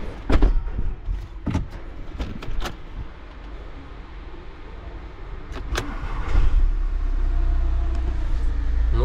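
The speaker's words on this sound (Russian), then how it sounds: "Надеюсь, сейчас заведем и поедем." A Volkswagen Multivan starts after a repair: several sharp clicks and thuds come first, then the engine catches and settles into a steady low rumble that builds toward the end.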